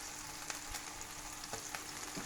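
Cheese fries on the bottom of a pan, crisping under a loose-meat burger patty, with a steady low sizzle, a few soft utensil taps, and a sharper clatter at the very end.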